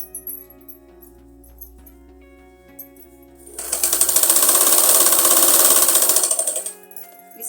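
A sewing machine stitches a girl's umbrella frock in a steady, rapid mechanical whir that starts after quiet handling noises, runs for about three seconds and then winds down.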